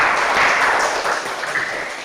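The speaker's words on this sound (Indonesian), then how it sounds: "Kita beri tepuk tangan lagi." Applause from students in a classroom after a group presentation, a steady dense patter of many hands clapping for about two seconds, fairly loud and close with no talk over it.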